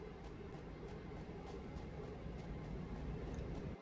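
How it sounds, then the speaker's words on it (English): A train arriving at a station in the game Satisfactory gives a low, steady rumble and rolling drone, faint and even throughout, with soft rhythmic clanks over the hum. "The train has arrived."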